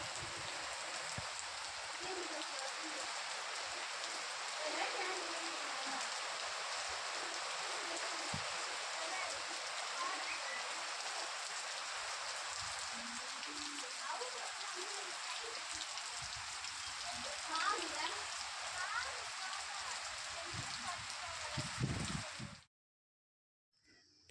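Heavy rain falls fast and steady, a continuous hiss of drops on surfaces with occasional nearby patters, holding evenly for about twenty seconds before stopping suddenly.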